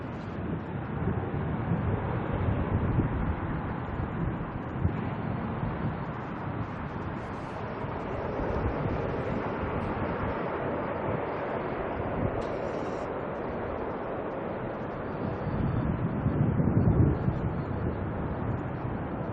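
Strong wind at Auckland Airport buffets the microphone in a continuous low roar, swelling in gusts with no clear break.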